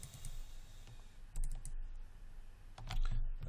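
Computer keyboard keys pressed during 3D modeling work, a few scattered sharp clicks with quiet stretches between, including a couple of louder thumping presses, close and alone.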